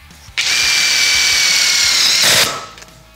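A power drill drives self-tapping screws, a loud, close, steady whine lasting about two seconds, rising in pitch and strain near the end before spinning down.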